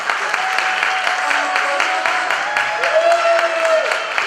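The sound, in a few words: audience applause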